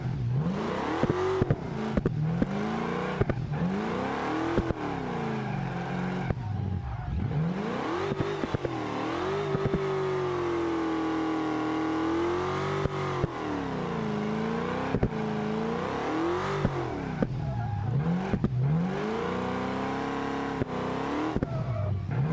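Go-kart race engines in the BeamNG driving game whine and rev continuously, pitch rising and falling with each lap as karts accelerate and brake, loud and close with no talking.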